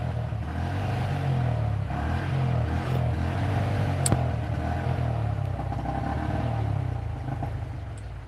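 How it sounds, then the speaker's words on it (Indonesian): A motorcycle engine drones steadily from below, its low rumbling pitch rising and falling slightly, with a brief clatter partway through. "Ini soalnya suara motor di bawah ya."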